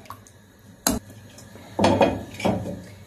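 A metal lid set onto a cooking pot in a home kitchen, a sharp single clank followed by two rattling clatters as it settles, close and clear.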